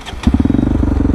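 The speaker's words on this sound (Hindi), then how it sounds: "तो मेरी गाड़ी का भी साउंड आपको एक बार मैं सुना देता हूँ" Bajaj Pulsar RS200 motorcycle fitted with an Akrapovic exhaust idles up close, a steady rapid low throb that kicks in after a brief quiet start and runs evenly to the end.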